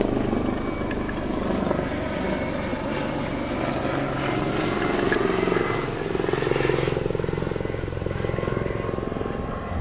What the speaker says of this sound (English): the helicopter is going past me